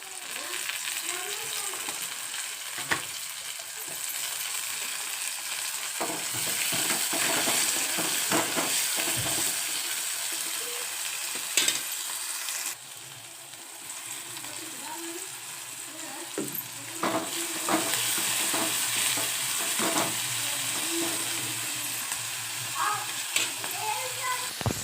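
Ridge gourd curry with tomatoes frying and being stirred in a pan, a steady close sizzle with scraping stirs throughout.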